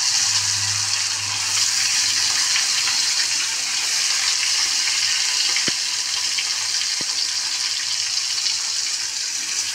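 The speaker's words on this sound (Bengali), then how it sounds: "নুন মাখিয়ে নিয়েছি মাছ, এবারে তেলের মধ্যে দিয়ে দিলাম।" Salted katla fish sizzles in hot oil, giving a loud, steady, hissing fry that continues throughout, with a low hum early on and a couple of sharp clicks near the middle.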